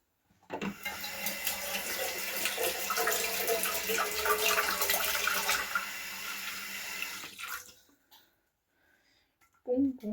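A pastry brush is rinsed under a running kitchen tap: a steady gush of water runs for about seven seconds, then stops, leaving quiet, and a brief clatter comes at the very end.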